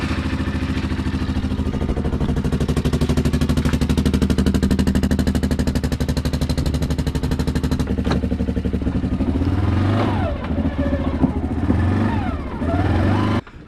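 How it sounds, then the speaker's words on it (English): The engine of a 450 XMR with a clogged stock exhaust runs steadily in park, a loud, close, rapid mechanical rattle. Toward the end it rises into a few revs with shifting pitch. "So this is with the stock exhaust that's pretty clogged up."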